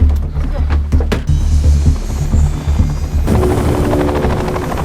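A helicopter in a film roars loud and close with a steady thudding rotor chop, continuing throughout and shifting in tone partway through.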